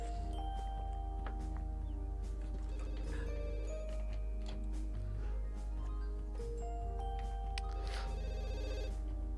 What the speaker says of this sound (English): Okay, you can answer the phone.